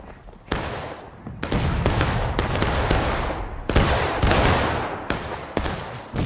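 Musket volleys in the War of Rights video game, a rapid series of loud, sharp shots and crackling bursts close by, some overlapping, with little talk.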